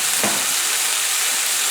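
Olive oil with chopped garlic hitting a hot pot for pork soup, a steady bright sizzle and hiss with a brief clatter at the start.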